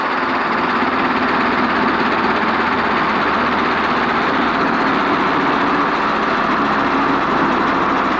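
A helicopter engine drones loud and steady in the cockpit as the throttle is gently rolled off during a flight lesson, a dense, continuous roar with no clear change in level.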